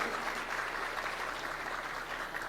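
Audience applause at a bioeconomy event in Amapá, a steady even wash of many hands clapping, moderately loud and continuous throughout with no break.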